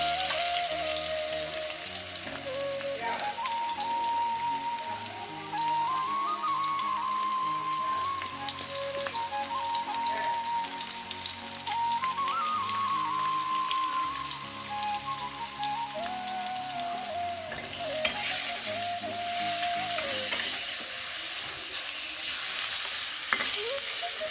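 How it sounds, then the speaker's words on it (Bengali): Mango pieces frying with turmeric in a pan give a steady, close sizzle for the whole stretch, with soft stirring scrapes over it and no talking. "আমগুলিকে নেড়ে নিতে হবে।"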